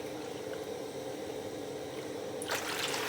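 Warm water pours and trickles steadily into a container while three cups are measured out, a continuous close liquid stream that thickens into a splashier gush near the end.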